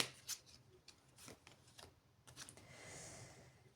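Tarot cards being shuffled, faint crisp riffling and flicking bursts close to the microphone, irregular and quiet, with no talk.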